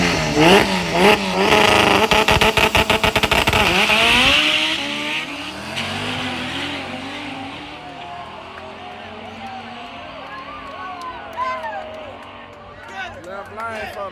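A lightweight 1,900-pound Honda and a Dodge Durango drag race down a strip, engines roaring loud and close at launch, then fading into the distance as a crowd chatters over the noise.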